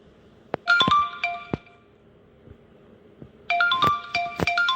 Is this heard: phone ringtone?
yes